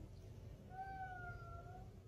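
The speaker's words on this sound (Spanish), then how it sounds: "¿Tú no eres un gato?" A faint, drawn-out meow resembling a kitten, heard once in a quiet house at night, rising and falling over a low background hum.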